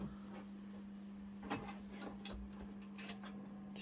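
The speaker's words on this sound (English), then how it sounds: "it's beautifully going to stitch our center details." A sewing machine stitching the center details of a project, with a steady low motor hum and faint repeated ticking of the needle, quiet and close.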